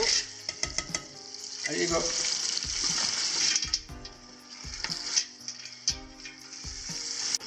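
Beans for a homemade cassoulet drop into a hot pan on an induction hob and sizzle steadily, with a stirring scrape, a few knocks of utensils, and a brief spoken exclamation over the frying.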